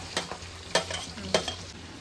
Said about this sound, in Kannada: ಇವಾಗ ಮೆಣಸಿನ್ಕಾಯಿ ಬೆಂದಿದೆ, ನಾವೇನು ಮಾಡ್ತಾ ಇದೀವಿ ಅಂದರೆ ಈರುಳ್ಳಿ ಹಾಕ್ತಾ ಇದ್ದೀವಿ